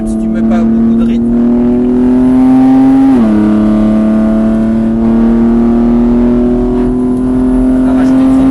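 On a warm-up lap at the Mireval circuit, a race car engine drones close and loud at steady revs, dipping sharply once as it shifts gear and then climbing again. A voice talks over it.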